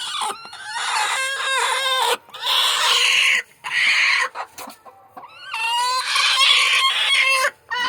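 Country hens cluck and cackle loudly at close range in repeated bursts, with a few brief gaps between the runs of calls.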